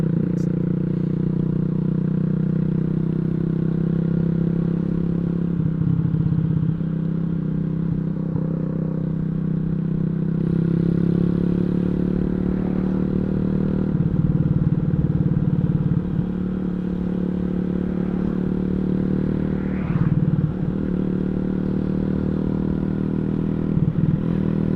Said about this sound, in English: Man, this bike sounds so good. It's just it's a freaking street legal dirt bike.